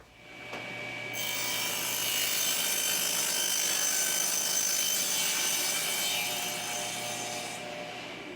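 A saw cuts a long, heavy wooden piece down to length for a tenon on a console table, producing a sustained, bright rasping whine that builds, holds for several seconds and then eases off, close and alone.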